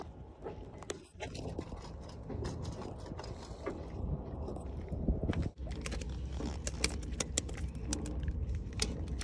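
Ryobi fishing reel cranked during light-tackle shore casting for trevally, a steady near mechanical ratcheting whir that runs throughout with faint clicks and brief pauses, no talk over it.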